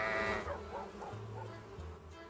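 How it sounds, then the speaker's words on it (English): A sheep bleats at a sheep farm in the Patrician 3 trading game, a wavering cry heard over a steady low droning tone from the game. "Let's get a sheep farm in the mix here."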